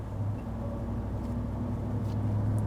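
A RAM TRX pickup's supercharged engine runs under light throttle, a steady droning hum with a faint whine held at a constant level throughout, with no talking.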